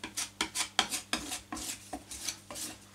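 Fine spatula scraping across an OSB board, a series of rhythmic rasping strokes, close and moderately quiet, each pass a short gritty scrape.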